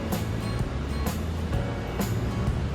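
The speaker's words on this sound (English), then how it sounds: "there's a bench here to sit down, listen to the water" Water laps and washes steadily against the Plymouth waterfront under a constant broadband rush, with faint periodic splashes and no speech.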